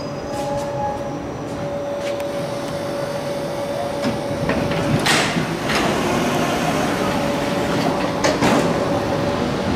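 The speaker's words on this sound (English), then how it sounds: "Here's the door." Sliding door of a driverless Copenhagen Metro train operating in a loud carriage, with a steady electric hum and rumble and a burst of sliding and clunking mid-clip as the door moves.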